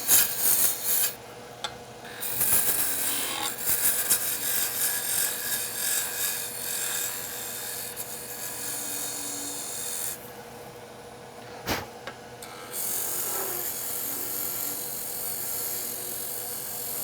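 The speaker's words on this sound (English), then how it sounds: "Now I can use the spindle gouge to reduce all of this in between." A spindle gouge cuts wood on a lathe while turning a wooden mortar, giving a steady, close rasping and scraping that runs almost without a break, with short lulls, and no talk over it.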